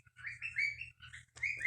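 A pet bird named Tweety chirps loudly and close up in repeated bright tweets, three bursts separated by short pauses, with no one talking.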